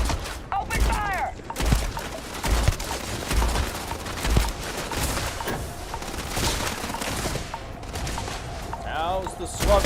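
Gunfire in the game Starfield rattles in dense, overlapping bursts with heavy booms, continuing through a tense firefight while players talk over it.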